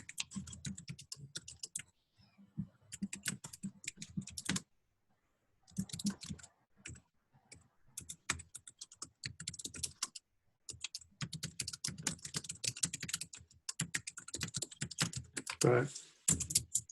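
Someone types a note on a computer keyboard during a call, producing quick clusters of close key clicks broken by short pauses, with a voice speaking between the bursts.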